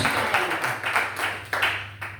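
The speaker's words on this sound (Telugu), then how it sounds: "గట్టిగా చప్పట్లు కొట్టి దేవుని మహిమపరచండి." A church congregation claps together at a pastor's call, a loud, dense patter of many hands pulsing in uneven bursts, with a low steady hum underneath.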